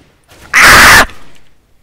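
A single loud, sharp burst of gunfire from the video game CS:GO, fired through a vent, lasting about half a second against a quiet background.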